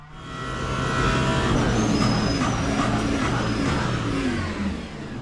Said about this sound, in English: Did you hear the additional tire squeal at ABS 7?